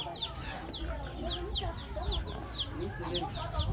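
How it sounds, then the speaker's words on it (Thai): Decoy chickens in a Hmong village in Hongsa, Xaignabouli province, Laos, give repeated quick clucks and short calls, moderately distant, over a constant outdoor background hum. "โอ้มีไก่ต่อหลายตัวเลยโอ้ไก่ต่อบักไล่พุ่นน่ะพี่น้องเอ้ยหันอีกหัน"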